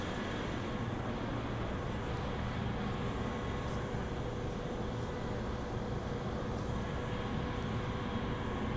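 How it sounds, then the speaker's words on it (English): Steady low rumble of a Perth suburban train in motion on the Cockburn Central line, heard from inside the carriage as a continuous broadband roar with no voices. "This train runs from Perth to Cockburn Central, stopping at all stations."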